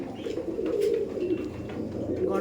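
Giribaj pigeons cooing close by, soft low rolling coos repeating in a continuous murmur, with some faint background voices.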